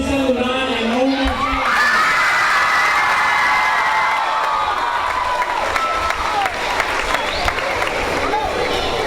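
A crowd at a school Red Ribbon rally cheers, whoops and applauds loudly and continuously, with children shouting and an amplified voice heard through the noise.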